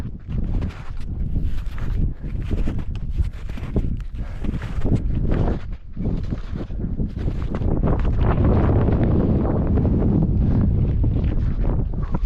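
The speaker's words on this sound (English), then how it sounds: "She's a little windy up here" Strong wind buffeting a snowy mountain ridge, loud gusty rumbles and microphone-battering blasts rising and falling, growing heavier toward the end with no speech.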